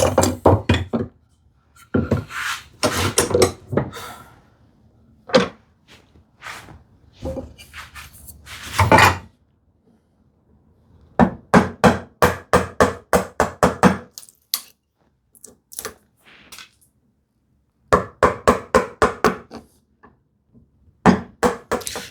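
A hand chisel paring wood on a workpiece clamped upright for a TV unit, bursts of sharp, close knocking and shaving strokes separated by quiet pauses.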